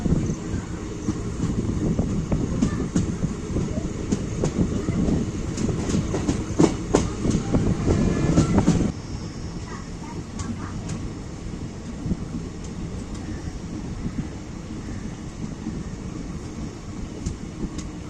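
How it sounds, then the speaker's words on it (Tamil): Trichy–Tambaram Intercity Special Express train pulls away with loud rumbling and clickety-clack of wheels over rail joints, heavy at first then dropping to a quieter steady roll with wind noise. "5:35 கிளம்ப வேண்டிய ட்ரெயின் 5:40 இங்க இருந்து டிபார்ட் ஆயிடுச்சு."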